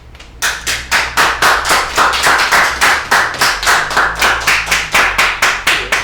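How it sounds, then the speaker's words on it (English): A small in-house team at a TV talk show claps in a steady, rhythmic beat, each clap distinct and close, keeping an even pace with no talking. "That was a wonderful applause, as I said, by the in-house team"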